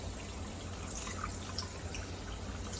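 Shower water runs steadily over the scalp during a hair wash. It makes a continuous, even hiss that fills the clip, with no talking.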